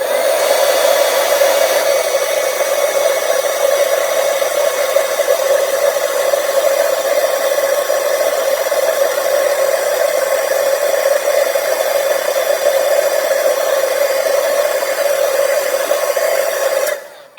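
A heat tool blasts embossing powder with a loud, steady hairdryer-like roar and a hum beneath it, running close and continuous for many seconds before cutting off, with no speech.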